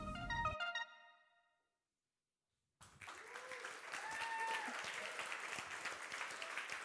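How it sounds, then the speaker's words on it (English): Audience applause at a startup demo day livestream, a steady round of clapping that swells after a short musical chime and a brief silence, with a voice speaking over it. "A lot of applause for you."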